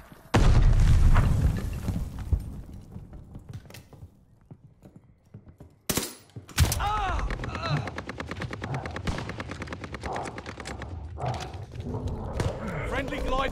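A grenade blast and bursts of gunfire ring out in the World War II shooter game Call of Duty: Vanguard, with a heavy boom near the start and another sharp explosion midway, then rapid, sustained shots amid battle noise and voices.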